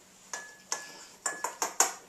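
Cinnamon and crushed bran cereal stirred together in a bowl, a spoon striking the sides in a handful of sharp, close clinks spaced irregularly, about six taps, with no voices.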